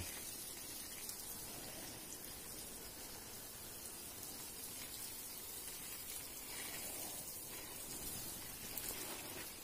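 Seedlings in a mini greenhouse get their first watering, a soft, steady patter of spray falling on soil and trays, continuous and faint throughout.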